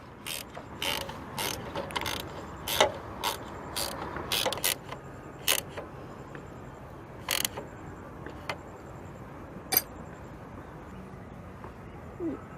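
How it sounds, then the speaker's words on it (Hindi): Nut bolts on a bike's indicator light being tightened, a sparse series of short, sharp ratchet-like clicks and metallic ticks at irregular intervals over a quiet background hum. "उसके बाद आपने अपनी इस लाइट के जो नट बोल्ट है उसको अच्छी तरह से टाइट करना है।"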